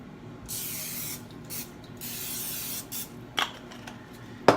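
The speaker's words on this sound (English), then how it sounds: "we're gonna to spray some butter, non-stick cooking spray on this" Non-stick cooking spray hisses onto pitas in several short bursts of varying length, with a couple of faint clicks and light handling noises between sprays.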